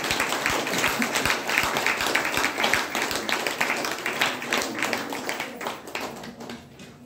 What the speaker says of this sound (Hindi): हम सब अपने लिए जोरदार ताली बजाइए